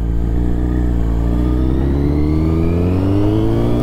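A red Yamaha FZ1 motorcycle engine revs steadily and loud and close, its harmonic tone climbing slowly through the whole stretch with no talk over it.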